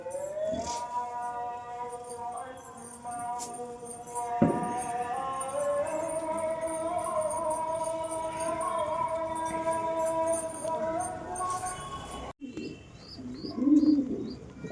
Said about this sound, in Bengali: পায়রাগুলোকে আবার গম দিয়ে দেবো